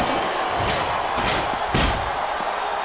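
Wrestling video game crowd noise in WWE SmackDown vs. Raw 2007, a continuous roar of cheers and jeers with several sharp thuds and slams cutting through, loud and dense.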